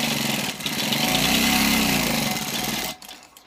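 A sewing machine stitches the placket strip of an old kurta, a loud close mechanical whirr running steadily for about three seconds before stopping abruptly, with no voice over it.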